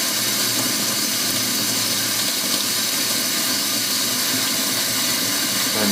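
Running water in a pressure-adjustable stream used for a demonstration: a constant, loud hiss of flowing water with no change in level and no talking.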